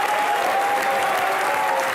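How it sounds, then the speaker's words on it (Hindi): A studio comedy show audience applauds loudly and steadily for two seconds, dense clapping with a faint sustained tone underneath and no speech. "दिलीप साहब के लिए एक बार जोरदार तालियां।"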